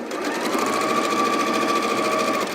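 A sewing machine joins quilt block pieces in a short burst of rapid, even whirring stitches, close and alone.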